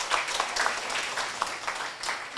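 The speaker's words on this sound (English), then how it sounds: "let's give a round of applause for our guest speakers" Audience applause for guest speakers at an anniversary symposium, a steady wash of clapping from a crowd that holds for about two seconds, fairly soft and heard from some distance.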